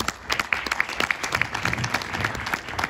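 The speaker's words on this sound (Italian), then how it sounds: "Facciamo un applauso" An audience at the 59th Tirreno-Adriatico cycling race presentation in San Benedetto del Tronto claps for the mayor, steady dense applause throughout at moderate loudness.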